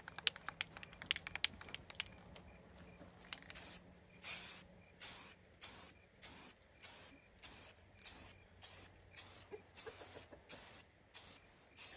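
Black spray paint hisses from an aerosol can onto a white dining table base, first in quick short taps, then as a steady run of regular one-second bursts, close and alone.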